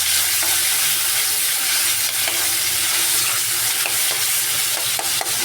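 Chopped tomatoes sauté in a hot pan, with a loud continuous sizzle and scattered scraping stir strokes, close up and without talk.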